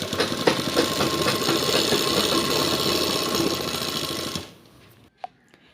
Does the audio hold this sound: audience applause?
no